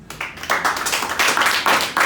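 A church congregation claps in rapid, uneven bursts of applause, moderately close, with no talking over it.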